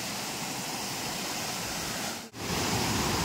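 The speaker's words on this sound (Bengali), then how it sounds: "বামনি ফলসটা, এটা তুর্গা জলপ্রপাত।" Turga waterfall in Purulia, a loud, steady roar of rushing water heard up close, continuous broadband noise with one brief dip, no voices.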